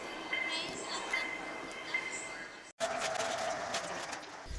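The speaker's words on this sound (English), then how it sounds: "So the train is here." An airport train rumbles and hisses as it pulls in, steady rail noise with a brief dropout midway, birds faintly chirping, no speech.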